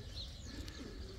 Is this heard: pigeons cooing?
yes